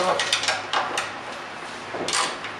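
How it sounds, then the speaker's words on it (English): A ratchet wrench with a 10mm socket loosening throttle body bolts on a Dodge 3.5L V6 LX engine, heard as quick bursts of close ratcheting clicks separated by brief pauses, with some faint mechanical rattling. "So here we are using the 10mm. Just remove those four bolts."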